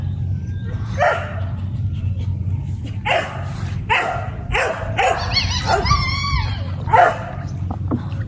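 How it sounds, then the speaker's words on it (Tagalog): Several dogs bark and yip in short bursts outdoors, with some whining, over a low steady rumble; nearby and moderately loud. "Sinasalubong na tayo na ating mga aso."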